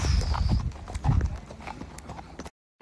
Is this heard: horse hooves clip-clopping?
yes